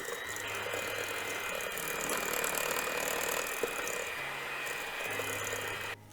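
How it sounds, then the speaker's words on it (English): An electric hand mixer whirs steadily as it beats granulated and brown sugar in a bowl, a continuous close mechanical drone with a slight rattling edge that cuts off near the end. "We'll use the hand mixer for this"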